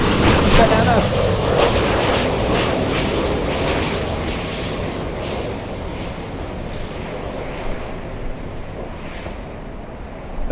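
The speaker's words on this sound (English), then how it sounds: "we'll see the 777 take off" A Boeing 777 jet roars on takeoff, a loud, broad engine rush that is strongest at first and then slowly fades as the aircraft climbs away, with a voice speaking over it.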